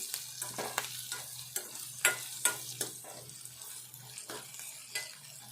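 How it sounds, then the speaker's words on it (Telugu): Green chilies frying with salt in a pan for a Telangana drumstick and chili curry, a soft sizzle broken by repeated scraping stirs at an uneven rhythm. "ఈ మిర్చి వేగాలి"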